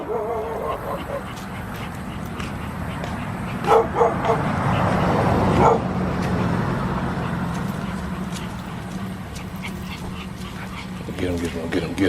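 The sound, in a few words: dogs barking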